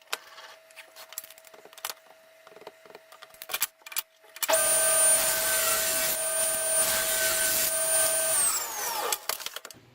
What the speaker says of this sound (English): So I'm going to cut this piece of walnut.